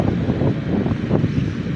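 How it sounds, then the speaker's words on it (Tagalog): Strong seaside wind at General Nakar, Quezon buffets the microphone in a steady, loud roar with gusty swells, with big waves nearby, and no voices. "Lakas ng hangin, mga lods"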